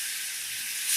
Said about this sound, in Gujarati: આ રીતે મસાલો શેકાઈ જાય એ પછી આમાં 2 ચમચી જેટલું પાણી ઉમેરી દેવાનું